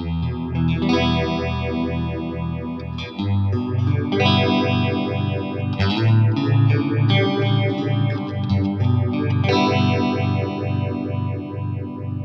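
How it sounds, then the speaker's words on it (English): An electric guitar runs through a StewMac Lightcycle Phasor II phaser pedal with feedback at minimum, giving loud sustained chords and picked notes with a gentle sweeping swirl, playing alone with no talk. "So feedback all the way at minimum should give us less of a phasery sound."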